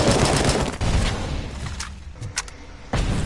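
An enemy turret firing in Robocop Rogue City: rapid bursts of loud, close gunfire with booming impacts, some breaks between volleys, and no talking.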